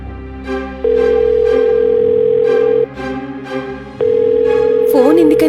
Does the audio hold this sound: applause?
no